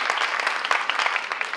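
Dense, steady applause from a concert audience at a choir performance, many hands clapping close and full for the whole stretch with no voices.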